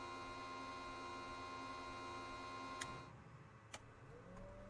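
Fuel pump priming in a Cirrus SR22 from a Microsoft Flight Simulator sound pack, a steady electric hum that cuts with a click, followed by a couple of sharp switch clicks and a faint rising whir.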